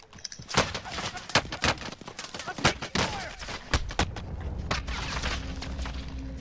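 Gunfire in a Call of Duty Warzone match, sharp separate shots cracking out in scattered bursts, some loud and near, others farther off, with faint players' voices under the shooting.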